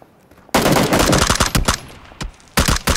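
Gunfire in PUBG (Battlegrounds) rings out in loud, rapid automatic bursts with brief gaps between them.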